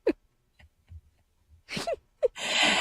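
A few quiet breaths and small vocal sounds lead into a sharp, noisy sneeze near the end, close to the microphone.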